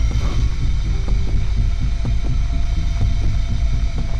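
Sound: vacuum cleaner switched on in Hello Neighbor video game

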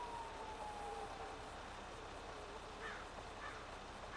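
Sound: emergency vehicle sirens in the distance

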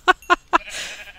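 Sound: sheep bleating in the video game New World

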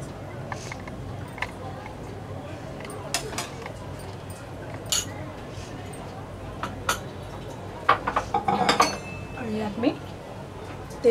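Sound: kadhai heated on stove, oil added, pan clinking

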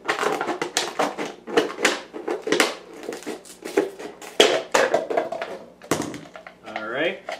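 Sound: cutting a plastic soda bottle straight across

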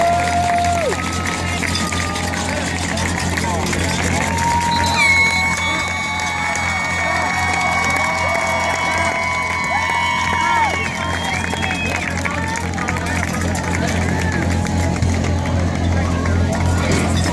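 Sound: crowd applauding and cheering after homecoming football game

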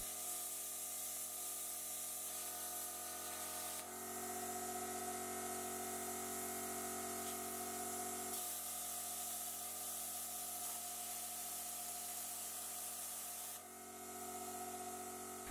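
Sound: Parkside plasma cutter cutting steel angle

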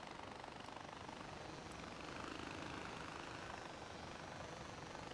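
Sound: helicopter flight in the video game Far Cry 4

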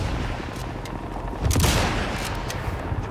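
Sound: sniper rifle shot in the video game Sniper Elite 5

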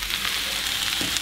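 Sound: garlic, potatoes and sausage frying in a pan

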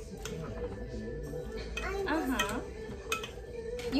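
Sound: mixing food together while cooking

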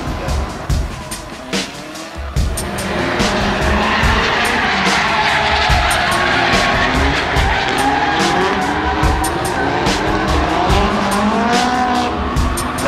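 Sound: drift car tires squealing while drifting

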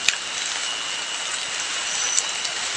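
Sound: rain at night

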